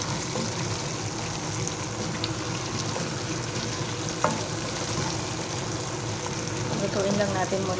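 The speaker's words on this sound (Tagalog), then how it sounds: "Lutuin lang natin muna saglit yung kamatis bago tayo maglalagay ng water." Tomatoes fry in a pan with a steady, close sizzle that keeps going throughout, broken by a few stirring clicks of a utensil against the pan.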